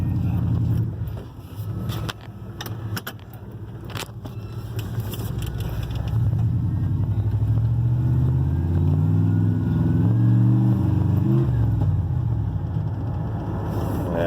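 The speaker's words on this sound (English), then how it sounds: "Usually when it does that cutting out stuff, it's because it's getting low with gas." Engine of a Grave Digger replica vehicle, geared 342, running low on gas, revs up and sputters, cutting out in loud uneven bursts after scattered clunks, then settles into a steady rumbling run up close.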